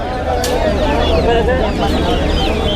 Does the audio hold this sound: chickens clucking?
yes